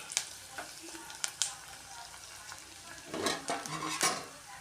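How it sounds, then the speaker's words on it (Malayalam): Ginger, garlic, green chili, curry leaves and chopped onion frying in a pan for a fish curry, a soft quiet sizzle with sharp scraping and stirring clinks of a utensil against the pan. "ഞാൻ അരിഞ്ഞു വെച്ച ഇഞ്ചി, വെളുത്തുള്ളി, പച്ചമുളക്, കറിവേപ്പില, ഉള്ളി അരിഞ്ഞത് ഇതെല്ലാം കൂടെ ഇട്ട് കൊടുത്തിട്ടുണ്ട്."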